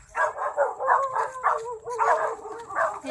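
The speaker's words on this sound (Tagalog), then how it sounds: "Kaya dami aso." Several dogs bark in repeated yapping bursts with some whimpering at a house hit by Typhoon Ulysses, fairly close and continuous, with no talk over them.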